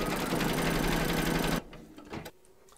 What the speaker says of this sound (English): Pop your hoop into your machine and stitch around number 3